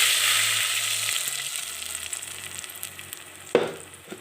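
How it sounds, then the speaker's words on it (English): Blended ingredients for a vegetable-egg soup hit hot oil in a pot, setting off a loud, dense sizzle that slowly eases, with a single knock of a utensil near the end. "The oil is hot. I'll be adding in my blended ingredients."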